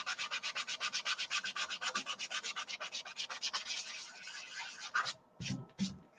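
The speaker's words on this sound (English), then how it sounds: "I like to go forward and reverse when I'm sanding." Rhythmic, rasping sanding of a turned workpiece spinning on a wood lathe, close and fairly quiet strokes pulsing steadily for about five seconds before stopping, then a few soft bumps.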